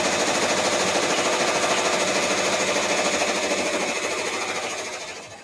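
An embroidery machine sews a placement stitch for an appliqué, giving a rapid, even mechanical chatter of needle strokes, loud and close, that runs steadily before tapering off at the end.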